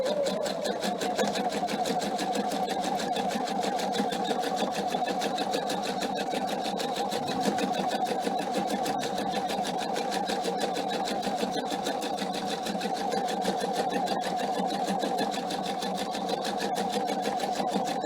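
A PFAFF sewing machine runs steadily while stitching a cushion cover, a close, even whirring hum with a rapid needle rhythm that continues unbroken throughout.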